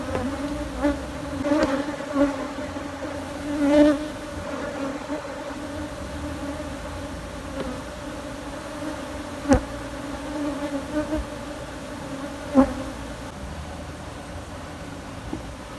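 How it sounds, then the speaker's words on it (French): Honeybees buzz steadily in a dense drone around a hive built inside tyres, with individual bees swelling louder as they pass close by now and then. "C'est une belle ruche, hein."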